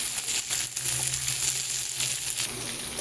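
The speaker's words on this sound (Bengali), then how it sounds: "পেঁয়াজটা মাছের সাথে এই তেলে একটু নেড়েচেড়ে নিয়েছি।" Onion and morola fish stirred together in hot oil, a close, dense sizzle with faint scraping from the stirring, steady for a few seconds and without speech.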